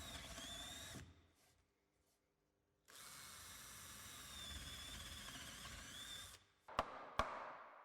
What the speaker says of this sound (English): Use a 12 mm drill bit to bore several holes through the positions marked